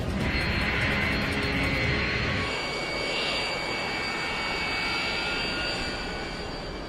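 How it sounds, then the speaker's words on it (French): A Cessna taxiing across a runway gives off a steady, loud engine roar that holds throughout, louder and whinier in the first couple of seconds, then settling into a constant drone. "Le Cessna doit maintenant traverser la piste pour se rendre au parking."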